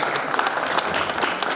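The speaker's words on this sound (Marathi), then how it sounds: "एकदा परत टाळ्या होऊन जाते त्यांच्याकरता." A burst of applause at a school alumni get-together honoring two former back-benchers, dense and loud clapping from a gathered crowd filling the whole moment without pause.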